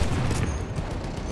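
Gunfire in Battlefield 1, a World War I shooter, from a Martini rifle: a dense, rumbling burst of shots and booms fills the short stretch, steady and moderately loud, with no speech.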